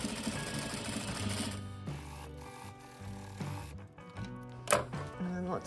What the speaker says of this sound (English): let's go right to the machine and give this a stitch. I just backstitched a little bit over the center of the seam.